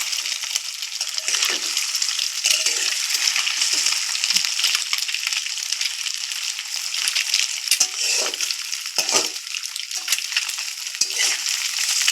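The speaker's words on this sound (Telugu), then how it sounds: "వేగుతుందండి అదే చూడండి ఫ్రెండ్స్ నేను కలదిస్తున్నాను తిప్పుతున్నాను" Egg masala frying in a pan, a dense continuous sizzle close by with scraping and stirring strokes scattered throughout, loud and without speech.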